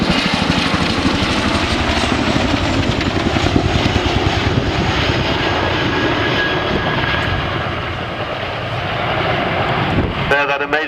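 A dense, steady roar of helicopter rotors and engine noise at the RAF Cosford air show, loud and continuous, with wind buffeting the microphone throughout.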